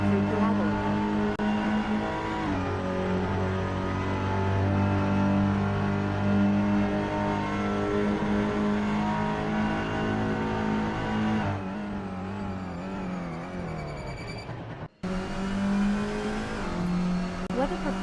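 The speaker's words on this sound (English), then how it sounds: "Ernest Basson is driving through Parabolica." A touring car engine roars through the Parabolica corner in a sim racing game, a loud, steady high-revving drone whose pitch rises and falls with gear changes, cutting out for an instant near the end before picking up again.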